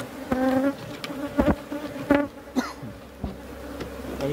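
Honey bee swarm at an apiary, a steady close insect buzz with overlapping wingbeat tones and scattered clicks and bumps, and no voices.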